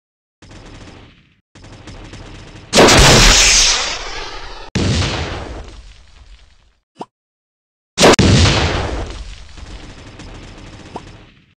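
Bursts of heavy gunfire and booming shots from an alien robot attack video game, several loud volleys separated by short pauses, with a brief sharp crack between them and no talk.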